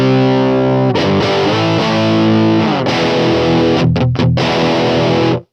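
Electric guitar played through a Universal Audio Lion 68 Super Lead amp, heavily distorted with a fat, warm tone, with loud sustained chords and brief choppy breaks near the end, alone without voices.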